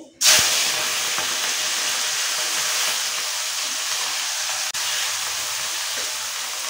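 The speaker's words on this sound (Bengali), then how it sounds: "তো এখানটা চিংড়িগুলো ভেজে নেবো, তেলটা গরম হয়ে গেছে।" Shrimp drop into hot mustard oil for a Bengali banana-flower and shrimp dish: a loud sizzle bursts in suddenly and holds as a steady, close hiss, with one brief dip near the end.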